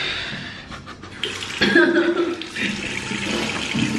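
Water from a tap runs and splashes while someone washes flour out of their eyes, a close steady rush with brief voices and a laugh mixed in.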